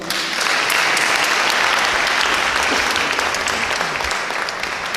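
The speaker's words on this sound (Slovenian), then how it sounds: "tako da tudi še njemu en aplavz" A crowd at a Slovenian cultural evening applauds loudly and continuously, a thick wash of close clapping that holds at full strength for all five seconds.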